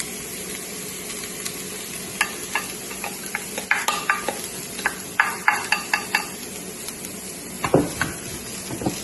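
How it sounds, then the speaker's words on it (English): Plant-based beef and vegetables fry in a pan, a steady sizzle broken by close clicking scrapes and taps of stirring that grow busier toward the end. "So carefully just pouring it into the frying pan."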